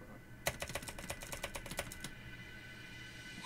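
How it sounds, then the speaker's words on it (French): Rapid clacking of a noisy computer keyboard during a two-player Geometry Dash session, a quick run of a dozen or so distinct keystrokes for about a second and a half before it goes quiet. "J'adore ton clavier aussi."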